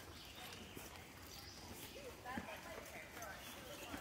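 Horse hooves clip-clop along a trail in Kentucky, faint and irregular, with soft voices and outdoor ambience around them.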